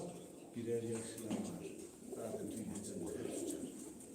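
Sivas pigeons coo in low, throaty rolling calls close by, repeating throughout, with a voice speaking over them.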